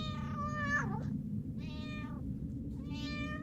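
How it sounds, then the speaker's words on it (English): A cat meows three times, close and clear, each cry drawn out with a rising and falling pitch over a low background hum. "You have a cat! I love cats."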